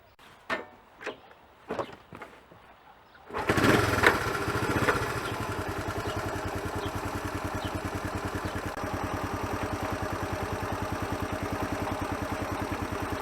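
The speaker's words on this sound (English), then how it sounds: "If your bike has got a strange knocking noise coming from the engine" A few knocks and clunks, then a Honda CT 110 motorcycle engine with an engine knock starts and settles into a steady, even idle with a regular ticking beat.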